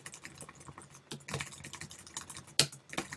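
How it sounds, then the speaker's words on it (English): Typing on a computer keyboard comes through as quiet, uneven bursts of close key clicks with one sharper keystroke near the end. "Then you can come in and type on it."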